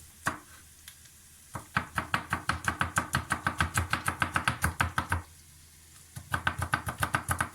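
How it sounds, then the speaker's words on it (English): A knife mincing garlic and ginger for a vegan samosa raps quickly and evenly on a cutting board, a close, crisp run of chops that pauses for a second before picking up again. "Don't mince the garlic too much and the ginger."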